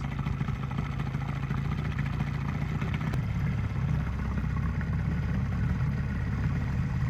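A boat's outboard engine idles steadily and close by as the boat is eased alongside another, a constant low rumble with no talk.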